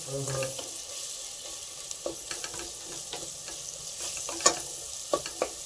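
Ginger garlic paste fries with onions in a pan for egg pulao, giving a soft sizzle under light stirring and a few sharp spoon clinks near the end, with no one talking.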